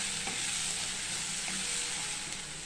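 Garlic and coconut paste sizzles steadily in hot oil while being stirred, a soft continuous frying hiss with faint scraping, heard alone without talk.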